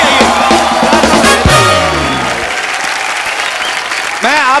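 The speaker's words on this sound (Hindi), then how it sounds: "सनी बाजी और बॉबी बाजी के लिए जोरदार तालियां हैं।" A television comedy show's studio audience breaks into loud, dense applause that fills the whole stretch, with music and a host's voice over it at the start.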